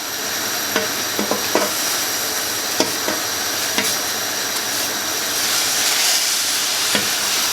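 A pot of greens boiling steadily after bicarbonate of soda is added, giving a continuous loud hiss and bubbling with occasional sharp clicks and taps from stirring, no voices.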